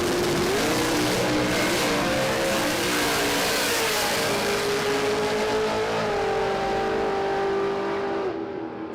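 Drag racing cars at Willowbank Raceway, a blown LSA and an open-exhaust 440 Capri, roaring loud and close with rising, sustained high revving that holds for several seconds before cutting off.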